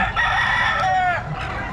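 Hens and roosters at a poultry sale: a rooster crows loudly and close while hens cluck around it in a brief burst.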